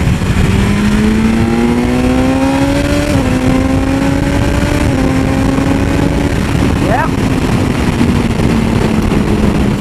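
A 2020 BMW S1000XR motorcycle engine revs loudly in road mode, its steady roar climbing in pitch in stages and ending in one quick sharp blip before settling.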